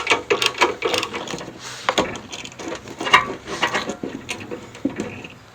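Socket set ratchet tightening bolts on a 1948 John Deere Model A tractor, a close run of quick clicking pawl strokes in irregular bursts with metallic knocks and handling noise.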